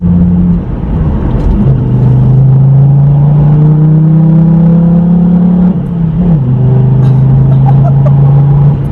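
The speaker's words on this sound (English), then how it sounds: "you've got 5 cylinders just screaming through that exhaust, and it is loud" A loud, deep five-cylinder diesel engine and exhaust roar from a 220 bhp Volvo C30 holds a steady drone, rising in pitch, dipping briefly as it shifts into third, then pulling hard again.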